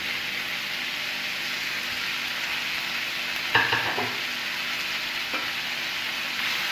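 Sliced orange, green and red bell peppers and sweet corn sizzle steadily in a pan for a chicken fajita sandwich filling, with a couple of sharp spatula stirring scrapes partway through.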